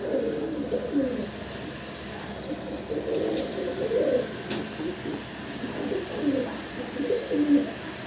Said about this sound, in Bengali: ভিডিও স্ক্রিনে দর্শক আপনারা শর্ট ফেস কবুতর দেখতে পারতেছেন